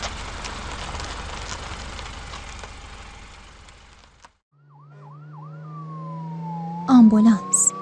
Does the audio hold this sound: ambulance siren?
yes